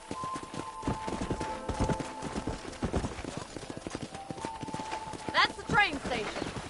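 Horse hooves clip-clop at a steady walking rhythm in the Red Dead Redemption video game, clear and close, with character dialogue spoken over them and a brief whinny near the end.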